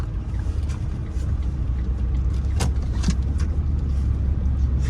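A car creeps through town streets at about ten miles an hour, its engine a steady low drone with road and tire noise, plus a couple of brief sharp clicks or knocks along the way.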